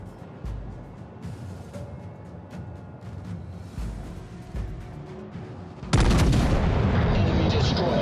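Naval guns firing at an enemy warship in the video game World of Warships: Legends, a series of sharp booming shots with rumbling echoes, then a sudden heavy sustained roar of fire near the end.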